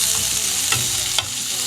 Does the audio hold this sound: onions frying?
yes